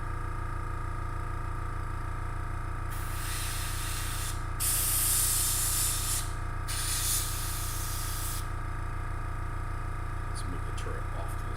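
An airbrush sprays paint in two sustained hissing bursts, close and steady, separated by brief pauses over a constant low hum from nearby equipment.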